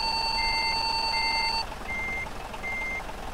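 Reversing beeps from a Mercedes-Benz Actros truck in Euro Truck Simulator 2: steady repeating electronic tones at an even rhythm over a constant engine rumble, with a second high tone that stops partway through.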